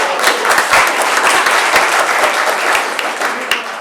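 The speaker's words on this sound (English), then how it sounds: "Give her a nice round of applause." An audience at a humor presentation gives a round of applause. The clapping is close and loud and stays dense and continuous throughout, with no talk over it.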